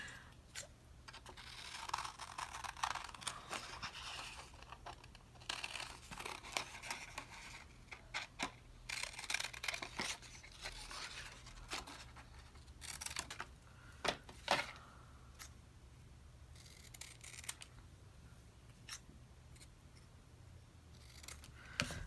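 Scissors cutting out paper and vintage ephemera for a junk journal, a close series of crisp snips and soft paper rustles at an uneven, unhurried pace, quiet and without talk.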